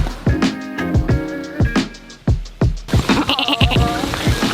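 A woman imitates a goat's bleating at Nelson's Dockyard in Antigua: a series of loud, close, wavering bleats in quick succession, repeated over several seconds.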